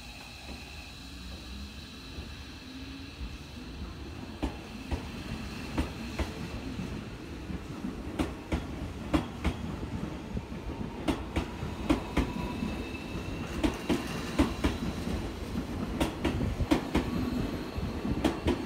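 A Seibu Railway 40000 series electric train pulls away nearby, wheels clicking rhythmically over rail joints beneath a steady rumble that builds as it gets moving.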